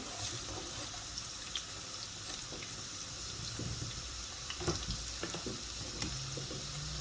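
Chopped onions fry in hot oil for chola pulao, a low steady sizzle with a few light stirring taps and clinks.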